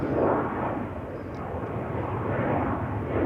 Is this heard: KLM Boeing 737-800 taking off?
yes